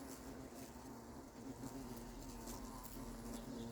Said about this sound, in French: Il y a un frelon qui est arrivé devant